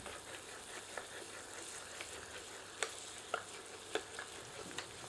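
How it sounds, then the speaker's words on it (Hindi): A ladle stirring goat trotter masala curry in a pot, a faint low sizzle with several sharp metallic clicks and scrapes spaced about a second apart, quiet and close, with no talking. "एक बार अच्छी तरह करछी चलाते हैं।"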